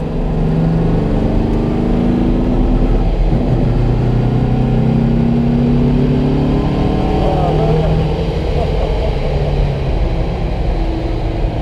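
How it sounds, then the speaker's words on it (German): A 1958 Porsche 356 A engine, 135 PS, runs steadily and rumbles loudly throughout, with a few revs rising and falling, and people talk over it. "Also Maschine hört sich richtig giftig an."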